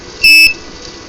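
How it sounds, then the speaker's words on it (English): A single short, high, clear beep from an electronic buzzer on an ESP32 project, sounding briefly against a faint background hum. "okay, that's the buzzer."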